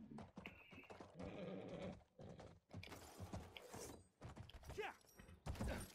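Horse neighs and clip-clopping hooves in a video game, with mechanical clunks and other game effects, recurring in a busy, fairly loud mix across the whole stretch.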